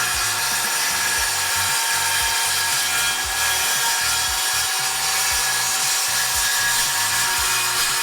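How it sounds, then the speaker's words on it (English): A saw rips lengthwise through wooden furring strips indoors in rapid, rhythmic back-and-forth strokes, a loud gritty rasp close by that holds steady for several seconds without pause. "I'm just ripping down and cutting down some furring strips for inside the house"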